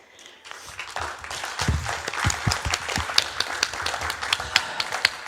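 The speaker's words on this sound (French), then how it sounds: "on peut applaudir grandement le festival" A crowd applauding steadily at a festival, building from scattered claps into sustained clapping that stays fairly loud throughout.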